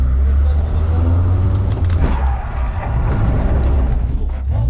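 A Renault Clio 1 revs hard while a wheel spins and slips during a handbrake parking manoeuvre, a loud steady engine drone with a rising whine in the middle, with voices talking over it.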